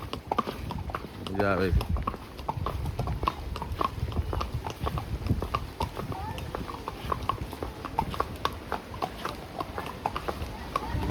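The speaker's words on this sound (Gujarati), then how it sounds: "ઘોડા પર છે એટલે થોડું હાલવાનું તો ખરું" Horse hooves clip-clop steadily along a forest trail during a monsoon horse ride in Matheran, close and rhythmic for the whole stretch, while riders chat over them.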